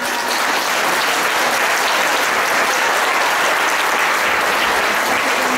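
A large audience applauds loudly and steadily, a thick wash of clapping that holds throughout without fading.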